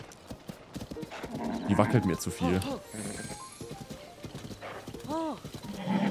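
Horse hooves clip-clop beneath a sharp whinny in Zelda: Tears of the Kingdom, with a person talking steadily over the game sounds.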